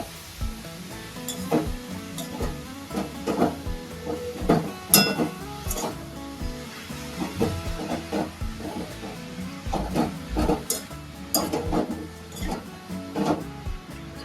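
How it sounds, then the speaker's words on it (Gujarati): Grated carrots for carrot halwa roast in a pan over low heat, giving a soft sizzle broken up by repeated scraping and stirring clicks from a spoon. "આવી રીતના શેકા કરવાનું ધીમા ધીમા ગેસે."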